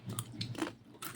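Crunchy homemade chips made from lumpia wrapper being bitten and chewed up close, a few crisp crunches spread over about a second with no talking.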